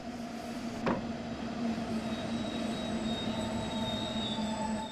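A 766.2 train runs on the Nahverkehr Dresden line in a train simulator game, a steady rolling rumble with sustained tonal hums and a single sharp click early on.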